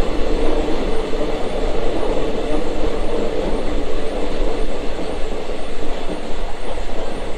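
A Howrah–Purulia passenger train gets under way at night, giving a loud, continuous rail rumble with faint clickety-clack from the wagons and no speech.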